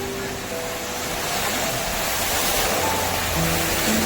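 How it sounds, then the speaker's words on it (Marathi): Sea waves wash onto Danapani beach in Mumbai, a steady broadband roar of surf rising slightly and continuing without pause, with faint tonal hum in the background. "आणि समोर फक्त येतो समुद्राचा आवाज"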